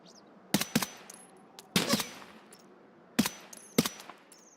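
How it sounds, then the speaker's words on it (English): Gunshots from an enemy player in Escape from Tarkov, fired from an elevated position: four sharp cracks in two pairs, well spaced and fairly distant, over a quiet outdoor background. "there's a guy up there. Shooting at me."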